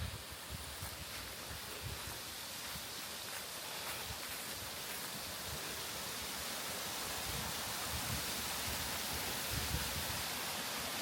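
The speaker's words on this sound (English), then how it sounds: "That's a nice waterfall." Turkey Creek Falls, a waterfall in West Virginia, rushing as a continuous broadband hiss, steady and fairly distant, with no voices over it.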